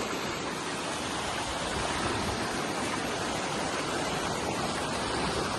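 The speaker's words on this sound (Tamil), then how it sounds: "தண்ணி எப்படி போகுது பாருங்க" Loud, steady roar of floodwater rushing after heavy rain in Sathankulam, dense and continuous throughout with no pauses and no voices.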